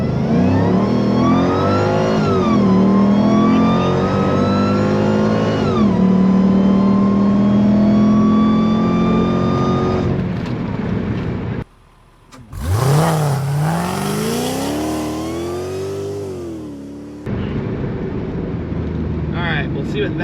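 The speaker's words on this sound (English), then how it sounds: "We'll do a little standing burnout." A 600 HP Mercedes doing a standing burnout revs hard in rising and falling waves with a brief cut-out midway, loud and close, while people talk over it.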